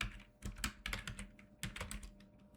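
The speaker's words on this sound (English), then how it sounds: "And now let's type git branch" Rapid irregular clacking of computer keyboard keys as a git command is typed, close and crisp, several quick bursts of keystrokes with short pauses and no talk.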